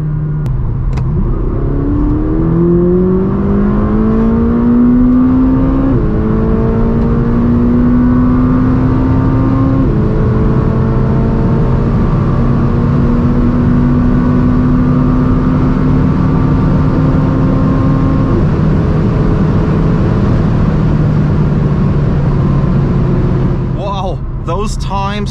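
A McLaren 570 GT accelerates hard on the Autobahn, its engine climbing through several rising sweeps with gear-shift breaks. It sounds loud and close from inside the car, with speech underneath.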